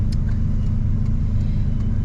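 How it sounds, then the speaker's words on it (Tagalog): Steady, loud low rumble of road traffic with cars passing in a continuous blended drone and no distinct pauses or horns. "Ay, traffic po"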